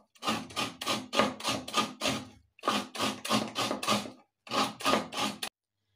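A coconut is grated by hand for sweet modak filling, a repeated series of rhythmic scraping strokes in quick bursts of about five, with short pauses between the bursts, close and crisp.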